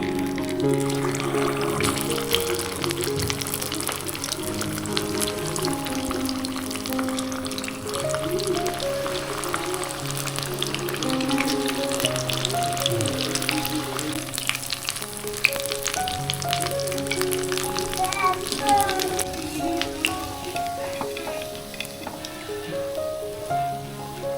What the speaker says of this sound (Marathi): ते बघा आता फ्राय करून घेत आहे